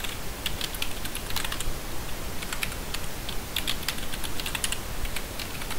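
Rapid, steady keystrokes on a computer keyboard as a password is typed, the clicks close and crisp, with brief pauses between bursts and no talking.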